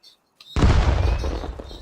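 Video game explosions in a battle royale match: after a brief quiet, a sudden loud boom bursts out and rumbles on with crackling debris, with faint talk around it.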